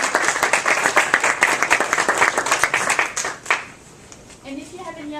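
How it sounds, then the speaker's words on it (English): Applause from the audience at a foreign language teaching workshop, dense clapping that holds steady for several seconds and then fades out, with a voice starting to speak as it dies away. "give a round of applause for"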